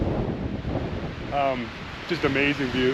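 Wind gusting across a high mountain viewpoint facing 13,000–14,000 foot continental peaks in winter, a steady rushing roar buffeting the microphone, with a person speaking briefly over it.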